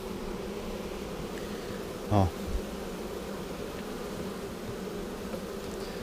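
A steady, dense buzz of many honeybees at a nucleus colony hums continuously near the listener, with a brief spoken syllable once partway through.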